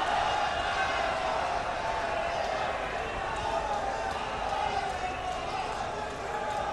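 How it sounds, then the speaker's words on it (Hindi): A large crowd at a Varanasi rally for Prime Minister Narendra Modi fills the air with a steady, dense roar of applause and cheering, loud and unbroken throughout, with voices blended into the din. "जोरदार तालियां।"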